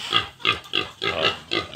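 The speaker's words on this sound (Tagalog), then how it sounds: "Agresibo talaga yung mga native na baboy." Native pigs grunt and squeal in a rapid series of short, nasal calls, fairly close and repeated about every quarter second.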